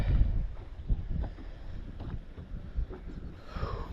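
Strong gusty wind on a cold lake buffets the microphone at about 45 degrees, producing low rumbling bursts and a steady whooshing roar, close and loud with no talk.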